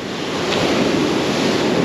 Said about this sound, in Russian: Хотя сегодня же у нас, видите, какое-никакое волнение есть.